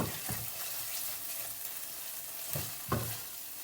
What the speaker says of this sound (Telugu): ఈ అల్లం పేస్ట్ మంచిగా ఫ్రై అయిపోయింది